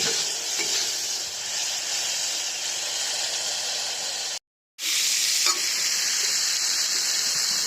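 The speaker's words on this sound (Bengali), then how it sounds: "আমি এখানে চিংড়ি মাছগুলোকে ভেজে নিচ্ছি।" Prawns frying in hot oil in a wok give a steady, close sizzle with stirring. A short silent gap falls partway through, and then the crackle resumes.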